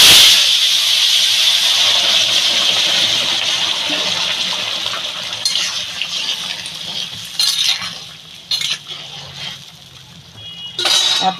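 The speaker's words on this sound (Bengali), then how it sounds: "তরকারিটা আমি ঢেলে দেবো তরকারিটা ঢেলে দেবো" Curry is poured into a pan of rohu fish and kohlrabi, first as a loud rushing splash and hiss. It then fades into quieter bubbling, with a few metallic clinks and scrapes from the pan near the end.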